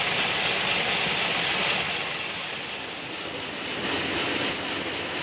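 Water-driven woodturning machine built by craftsmen who shape wooden vessels, heard as a steady loud rushing, churning roar with a faint dip partway through and no voices.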